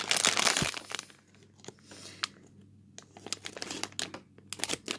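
A Cadbury Mini Creme Egg packet is cut open with scissors, giving loud crinkling and crunching plastic rustle at first, then scattered snips and crinkles, close up with no talk.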